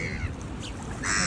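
Birds gathering close to people feeding swans outdoors, giving a few harsh, cawing calls over steady outdoor background noise.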